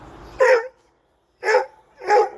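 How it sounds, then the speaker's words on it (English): Three short dog barks with gaps between them, close and fairly loud, coming alone with no talk over them. "That dog got out again."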